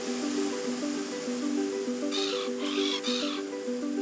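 A few harsh, squawking seagull calls in the game Willy Morgan and the Curse of Bone Town ring out in quick succession over a steady looping melodic backdrop, with no voices present.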